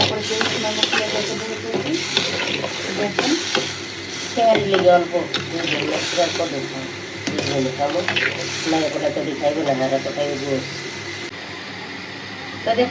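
Prawns frying in oil in a pan, a moderate sizzle with occasional stirring scrapes, heard close beneath a person talking through most of it.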